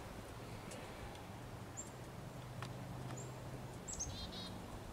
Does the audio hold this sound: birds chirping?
yes